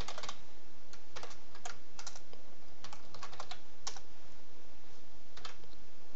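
Someone types code on a computer keyboard, with bursts of quick clicky keystrokes separated by short pauses, close and clear with no talking.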